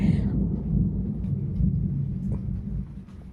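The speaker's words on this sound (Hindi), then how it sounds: "आप लोग बादल का गरजने का भी आवाज़ सुन रहे होंगे" A low, rolling rumble of thunder fills the clip, steady and heavy, with faint rain hiss above it and no talking.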